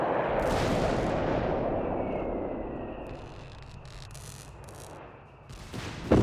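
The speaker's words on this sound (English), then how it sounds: "Nice bombarding the machine gun position there." Artillery shells pound a machine gun position in the Company of Heroes 3 strategy game, a loud rumbling barrage at the start that fades into distant crackling gunfire, then a fresh burst at the end.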